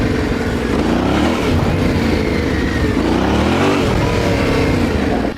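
A Yamaha Tenere 700 adventure motorcycle revs while lifting its front wheel off-road. Close, loud, rough engine bursts rise and fall in quick pulses over constant mechanical and wind noise.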